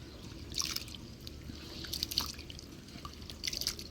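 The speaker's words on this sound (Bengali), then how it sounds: "ডালটা ধুয়ে নিলাম, এবার কড়াই দিয়ে দিই" Roasted lentils (dal) get rinsed in water, heard as faint, scattered drips and splashes of water with soft sloshing in between.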